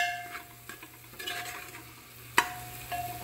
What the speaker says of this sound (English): So we're adding the meat now into the masala.